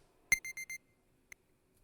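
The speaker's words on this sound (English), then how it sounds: "It was the sound of an alarm that always fell on my ears." A small alarm clock in the visual novel Memories Off rings faintly in a short electronic burst of four quick beeps, then one more isolated beep after a pause, with nothing else heard.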